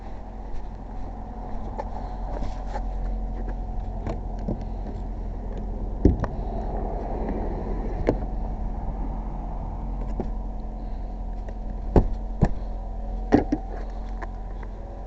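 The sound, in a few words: Ford Fusion Hybrid engine running after jump start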